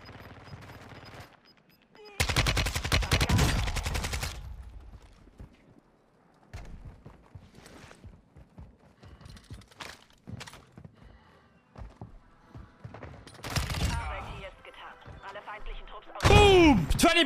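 Bursts of AK-74U gunfire in the shooter game Warzone 2, loud rapid strings of shots with scattered single cracks and a heavy burst near the end, mixed with other battlefield noise.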